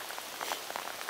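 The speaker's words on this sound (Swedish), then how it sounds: "Här faller det mellan 20 och 60 millimeter regn på bara några minuter." Heavy rain pours down during a roebuck hunt outdoors, a dense hiss of drops with scattered louder patters striking nearby surfaces, steady and close.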